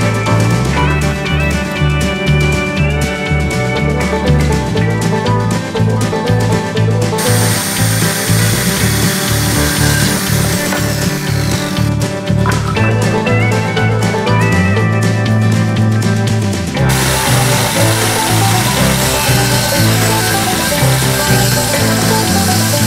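A power drill drives 50mm wood screws through timber brackets while building wooden dollies for a VW Beetle, with steady whirring bursts and ratcheting clicks that run loud and close without a break.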